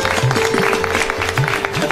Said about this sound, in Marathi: योगेश करता एकदा टाळ्या.